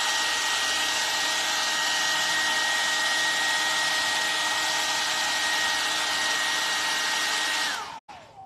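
Loud, steady hair dryer airflow with a thin whine blows over an old aluminium kettle being painted, holding constant for nearly eight seconds before the motor winds down and clicks off.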